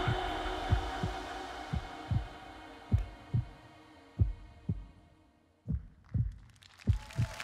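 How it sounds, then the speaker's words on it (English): Heartbeat effect within a song, a series of deep, thudding paired beats in a steady rhythm over a soft musical hum, the beats pausing briefly before returning. "Oh, heartbeat."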